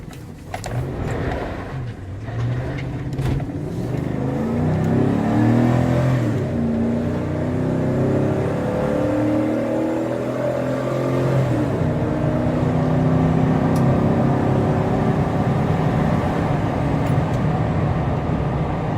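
A 2012 Chevrolet Tahoe 4WD runs and drives. A steady, loud engine drone rises and shifts in pitch as it accelerates, with road and cabin rumble underneath throughout.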